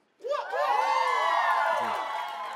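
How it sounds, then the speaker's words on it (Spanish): A live stand-up comedy audience in Mexico shouts and whoops with rising cheers and crowd noise, loud and sustained for a couple of seconds after a sudden onset. "Cuando hay gente que grita como ¡woo!"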